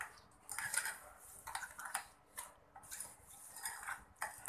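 Palm fruit batter being mixed with a pinch of salt in a bowl, a run of quiet scraping and clinking strokes at close range with no talk.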